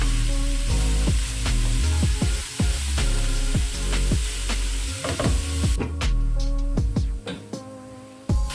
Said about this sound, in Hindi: बंद गोभी और शिमला मिर्च हमें जितनी चाहिए थी हो गई है, कुक हो गई है